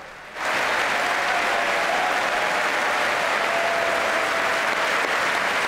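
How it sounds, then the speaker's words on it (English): Applause from members of Congress during a State of the Union address, a dense, steady roar of many hands clapping that starts abruptly after a brief quiet moment and continues loudly throughout. "who, in another remarkable moment, stood and applauded Trump."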